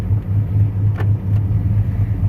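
Steady low rumble of a truck running a carbureted 5.3 V8 while driving, with a brief change around a gear shift and a faint squeak over the constant engine drone.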